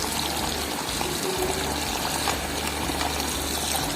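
Water being poured into a pot for a sweet potato cream soup, a continuous, steady splashing stream at moderate loudness from start to finish, with no speech.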